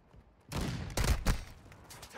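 Gunfire in Call of Duty Warzone 2.0, a burst of several loud, close shots in quick succession with booming low ends, fading into echoing tail after the initial quiet.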